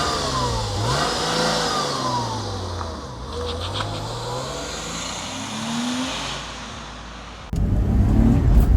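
A Porsche engine drones while driving down a country lane, its revs rising and falling through gear changes under steady road noise, then a sudden louder rush of wind and engine near the end.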